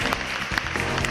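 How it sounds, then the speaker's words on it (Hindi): Studio audience applause on the Deal No Deal game show, a short dense burst of clapping filling the whole moment at steady volume with no voices over it. "बहुत सारी तालियों में"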